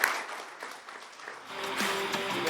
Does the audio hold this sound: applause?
yes